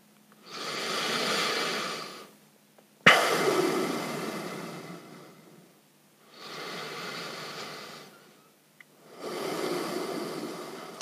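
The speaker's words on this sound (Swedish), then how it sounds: "Andas långa djupa andetag." Slow, deep breathing during a yoga session, with four long, loud breaths separated by short pauses and one sharp intake in the middle. The breaths are close and clear, with no talking.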